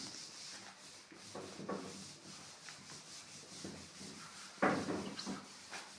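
A cloth duster is wiped across a classroom blackboard in a series of irregular rubbing strokes, soft and scratchy, with one firmer swipe near the end.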